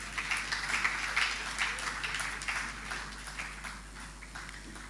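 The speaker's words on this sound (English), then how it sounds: "I really want you, all the audience, to applaud warmly the team of UNCC" An audience at the official re-opening of a UNCC arts and culture venue applauds warmly, a dense, steady wash of clapping that holds for several seconds and tapers slightly toward the end, with no talking over it.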